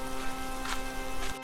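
Steady rain falls in a cartoon village story, a dense, even hiss of drops on surfaces that continues without pause before cutting off abruptly at the end.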